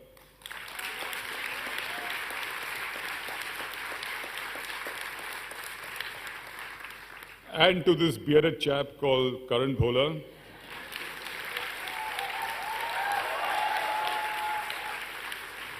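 An audience at a Young India Fellowship convocation ceremony at Ashoka University claps in a dense, sustained wave of applause that is broken briefly by someone speaking at a microphone before the clapping swells again.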